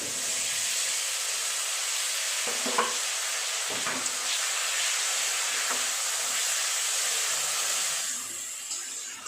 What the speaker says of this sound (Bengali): পেঁয়াজটা ভাজা ভাজা হয়ে গেছে, এবার দিয়ে দেবো আদা রসুনের